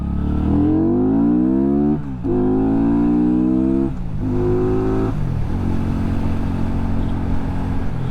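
A Benda motorcycle ridden at about 50 mph, its engine loud and close, revving up through several gears in rising sweeps with brief dips at each shift, then settling into a steady drone.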